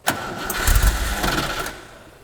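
The V8 engine of a Westfield kit car with a Holley carburettor cranks briefly and catches, a short burst of low rumble that settles and fades within a couple of seconds.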